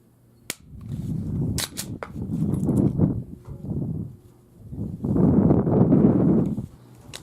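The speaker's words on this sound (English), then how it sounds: "Okay, Glock 17 9mm supersonic Perfecta ammo, suppressed." A suppressed Glock 17 9mm pistol fires supersonic Perfecta ammunition: a couple of sharp cracks, then muffled handling noises and rustling, with bursts of broadband hiss following at close range.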